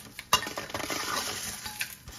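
Urad dal and black pepper tossed in hot oil in a pan for a South Indian pepper gravy, with clinking utensil scrapes and stirring against the pan, a sharp clink near the start, over a low background hiss.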